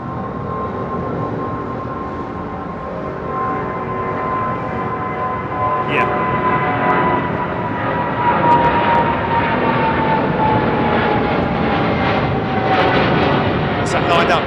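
Korean Air Boeing 747 departing London Heathrow: a loud, sustained jet engine roar with a faintly falling whine across the whole stretch, while people chat over it.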